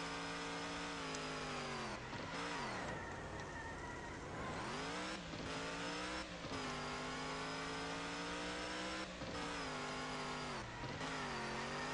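A car engine revving hard while drifting in the off-road driving game Offroad Outlaws, a loud buzzing drone that rises and dips in pitch through repeated throttle lifts and shifts, continuous throughout.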